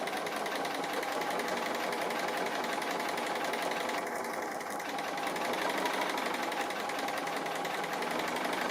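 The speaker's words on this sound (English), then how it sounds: "So I've been busy stitching my leaves and branches, and I'm just on the last branch." Sewing machine stitching fabric applique leaves and branches around a tree design on a quilt, a steady fast mechanical whir and needle chatter running continuously at moderate level throughout, with no talk.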